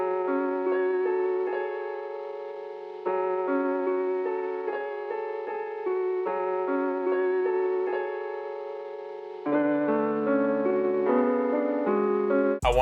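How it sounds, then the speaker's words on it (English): A piano patch from the Scorch VST plays a simple, slow chord progression for a dark trap beat, with sustained chords that change every few seconds and carry an echoey tail, heard alone and clearly. "I added a piano that I found in the Scorch VST with a simple progression that sounds like this."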